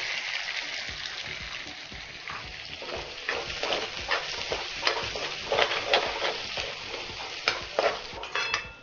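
Onions and salt sizzle in hot oil in a kadai, a steady bright frying hiss with repeated scraping stir strokes throughout, close and fairly loud.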